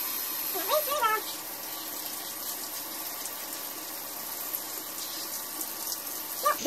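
Tap water runs steadily over soaped-up orchid leaves in a sink, a continuous hiss and splash with a brief voice near the start and a small clatter at the end.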